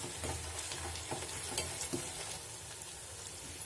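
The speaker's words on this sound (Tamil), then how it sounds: "இதை நல்லா மிக்ஸ் பண்ணி நல்லா வதக்கிக்கலாம்" Onion, tomato, ginger garlic paste and curry leaves sizzle steadily in oil in a pan, a continuous crackling fry with occasional stirring scrapes, close and fairly quiet.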